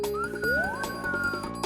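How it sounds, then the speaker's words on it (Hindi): A cartoon pressure cooker whistles with a clear, sustained tone that slides upward and holds over a busy comic background, lasting under two seconds. "सीटी बज तो रही है।"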